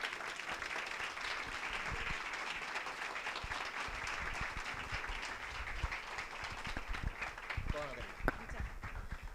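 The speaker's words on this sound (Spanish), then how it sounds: "Un tremendo, tremendo aplauso." An audience at a talk on sex education claps for the next speaker, an uneven, moderately faint applause with scattered louder claps and some voices mixed in.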